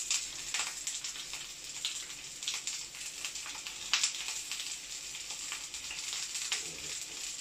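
Onions frying in a pan for spicy bhindi with okra, a soft steady sizzle and crackle with faint pops throughout, close and alone.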